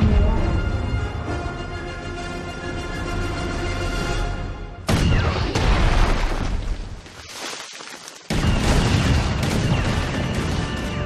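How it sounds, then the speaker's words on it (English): Heavy blaster and gun fire in a Star Wars film scene, a loud, dense barrage of booming shots and crashes that breaks off briefly, then resumes at full force. "I want every gun we have to fire on that man."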